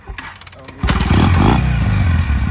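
A Kawasaki W650 motorcycle engine, kick-started, catches after a brief clatter and settles into a loud, steady idle close by.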